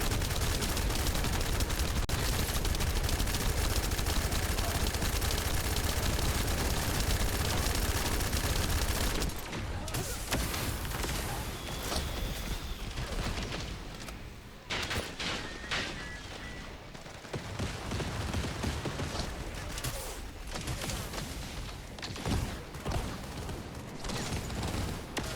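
Sustained rapid gunfire from a flak cannon in The First Descendant, dense and loud for the opening stretch, then continuing as choppier bursts with blasts and clatter amid combat noise.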